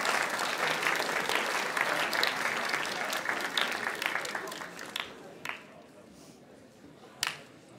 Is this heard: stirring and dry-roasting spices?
no